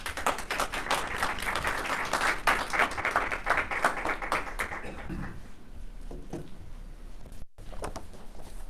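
A briefing audience at a Congressional health-data event applauds densely for about five seconds, then the clapping thins out and trails off into a few stray claps and room noise.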